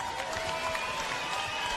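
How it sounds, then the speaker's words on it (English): A crowd at a professional boxing match applauds both fighters after the final bell in the ring. The sound is a steady, fairly distant roar of clapping with a faint tonal hum beneath it. "A big round of applause"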